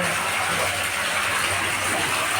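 Water gushes out of a borewell next to a farm well, making a steady, loud, dense rush that fills the whole short stretch without pause, with no voices over it.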